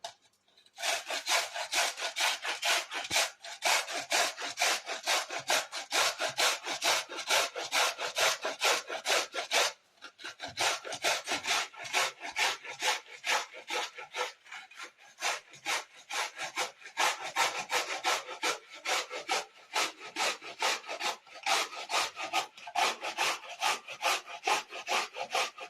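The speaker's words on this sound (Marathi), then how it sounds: "आता त्याला किसून घेऊया." Peeled beetroot is grated by hand on a kitchen grater, making fast, steady, rhythmic rasping strokes close up. The scraping runs continuously with only a couple of brief pauses and no talk.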